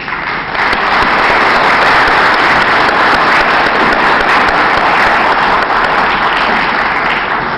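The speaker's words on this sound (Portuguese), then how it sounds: "o Dr. José Alberto Lima Medrado, a qual pedimos uma salva de palmas." Loud, sustained applause from a large audience welcoming a speaker at a spiritist conference in New York, a thick roar of clapping that swells within the first second and holds steady throughout.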